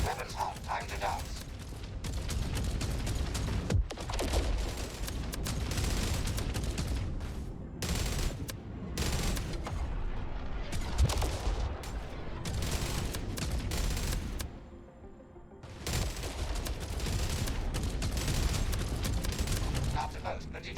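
Spaceship weapons fire in the sci-fi game JumpSpace: dense, sustained bursts of rapid gunfire and heavy booming blasts, loud and continuous with brief pauses, with voices speaking underneath.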